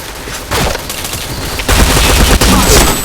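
Loud, dense bursts of automatic gunfire from the video game Point Blank rattle continuously in rapid volleys with heavy booming hits, close and harsh.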